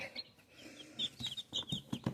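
Incubator-hatched chicks, including Kuchinsky crossbreeds, peep in high, rapid chirps while a chicken clucks softly nearby, a busy, irregular chatter of small birds at close range.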